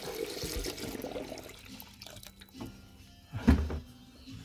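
Coolant is poured into the radiator of a 2017 Toyota RAV4 after a water pump replacement, a close gurgling splash of liquid that ends with a soft thunk.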